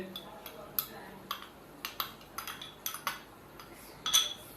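A spoon clinks against a pot while stirring potato and black-eyed pea curry (aloo lobia), giving a series of sharp metallic taps at an irregular rhythm, close and fairly loud, with no talking.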